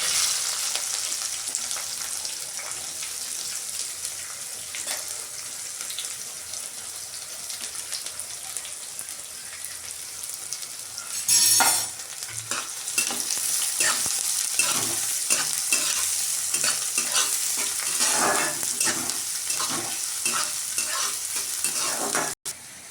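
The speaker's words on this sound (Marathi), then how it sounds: "इकडे बघा कांदा भाजतोय" Onion frying in hot oil with mustard seeds, cumin, green chilli and curry leaves for batata poha, a steady close sizzle and crackle with stirring clatter and a louder burst midway, no talking.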